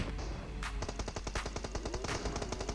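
Rapid automatic gunfire from the battle-royale shooter PUBG in team deathmatch, a dense run of sharp, evenly spaced shots that sounds close and loud, with no speech over it.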